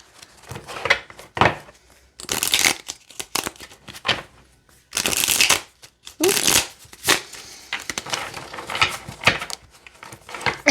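A small, nearly mini-size Cosmo Tarot card deck is shuffled by hand in close, crisp bursts of riffling and flapping cards, separated by short pauses.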